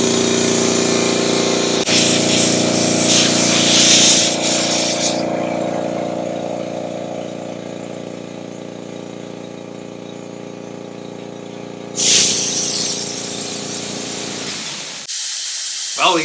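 Makita MAC 2400 air compressor running with air escaping from an open gauge port, heard as a loud steady motor drone under a strong hiss that swells, drops away, then surges again near the end, with no talking.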